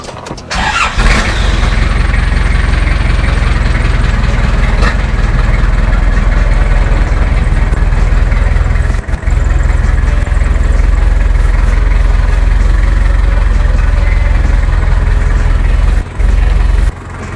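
A Nissan Big-M pickup truck used on a farm starts up and idles steadily nearby, a loud, continuous low engine rumble with a brief dip partway through.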